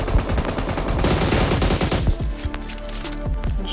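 Gunfire in the PUBG video game: rapid bursts of automatic weapon fire and scattered single shots, loud and dense at first, then sparser and more distant toward the end, with no talk.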